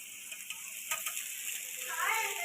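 Soaked poha lands in a pan of fried onions for kanda poha, bringing a soft, steady sizzle with light scraping and stirring noises that grow a bit louder toward the end.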